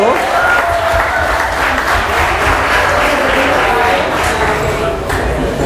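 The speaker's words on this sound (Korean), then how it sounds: "자, 박수." Loud, dense audience applause for newlyweds at a church gathering in Havana, Cuba, continuous clapping with crowd noise throughout.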